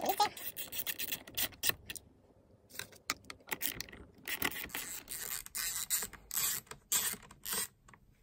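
A chainsaw carburetor is taken apart by hand, with close, irregular metallic clinks, scrapes and rattles of screws and small parts coming in bursts, separated by short quiet gaps.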